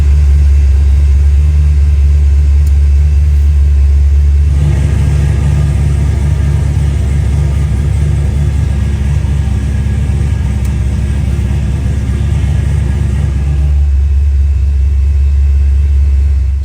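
Turbocharged Ford Fairmont running a muffled exhaust with a CO2-powered cutout, giving a loud, steady low rumble that swells into a fuller, louder revving roar for about nine seconds before settling back to idle.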